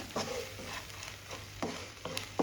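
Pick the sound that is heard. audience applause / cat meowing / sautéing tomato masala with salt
sautéing tomato masala with salt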